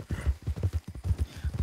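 Horse hooves clip-clop at a fast, galloping rhythm while someone rides hard, a steady run of close, punchy beats with no talk over them.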